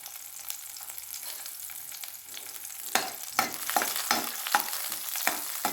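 Garlic and ginger frying in oil with green chillies in a pan hiss and crackle at close range, while a spatula scrapes and clatters repeatedly in a quickening rhythm.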